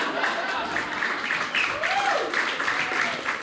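Audience applause at a stand-up comedy show for the comedian's mother, a steady wash of clapping throughout with a speaking voice over it.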